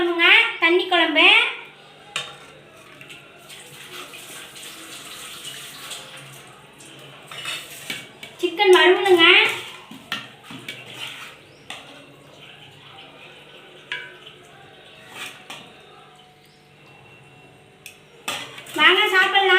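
Dishes and cutlery clink in short bursts while idli and chicken curry are served, with a few sharp clatters spaced apart and people talking throughout.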